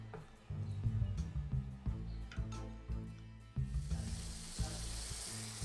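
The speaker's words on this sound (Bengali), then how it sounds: "এগুলো আমি খুব ভালো করে একটু কষিয়ে নিব, তারপর অন্য মশলা দিব" Grated tomatoes sizzle and fry steadily in a pan while being cooked down for a shrimp curry, a close, continuous crackle with occasional soft scraping ticks.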